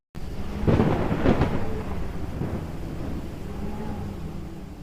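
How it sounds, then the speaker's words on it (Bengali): A thunderclap in a rainstorm breaks in abruptly after a brief silence, with a loud crack and rolling rumble early on that fades into a long, lower grumble. "ওরে বাবা, কত জোরে মেঘ ডাকলো!"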